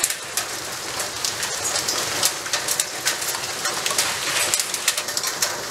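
Hailstorm with rain near Cantalice in the Rieti area: dense, steady hiss of falling rain and ice pellets, with frequent sharp individual impacts on surfaces close by, continuous and fairly loud with no speech.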